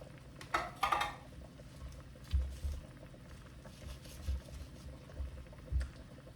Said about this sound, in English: If you need a little bit more moisture, you just put some water in your pan.